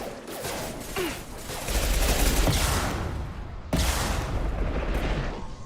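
Sustained SMG fire against shields in a video game, a dense, rumbling stream of rapid shots that swells, breaks briefly, then resumes at full volume.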